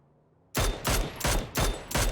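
Loud, close gunfire in the battle royale game PUBG during a pro scrim, a burst of four or five heavy shots in quick succession after a quiet start, with no talking.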